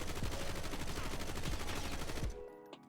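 The GPMG-7 light machine gun in Black Ops 6 fires a sustained rapid burst for over two seconds, dense and loud, then stops abruptly with a faint click and some tail.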